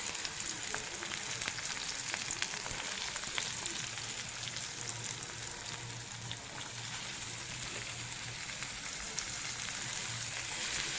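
Onions and curry leaves fry in hot oil, making a continuous, moderately quiet sizzle with light crackling. A faint low hum runs intermittently underneath, and no one speaks.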